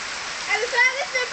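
Rain or a shower of water splashes down in a steady hiss, rising and falling over a second or so, with a light chirpy undertone and no clear talk.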